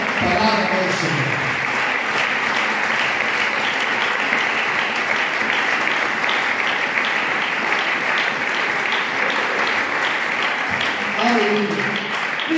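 Loud sustained applause fills a church service as the congregation claps together continuously, dense and close, with a voice speaking over the clapping at the start and again near the end.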